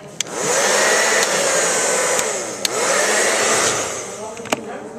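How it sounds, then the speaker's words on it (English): A barber's blow dryer at a barber station runs with a loud, steady whooshing roar, dipping briefly as it is cycled between settings, with sharp clicks from the switch. "this is my blow dry"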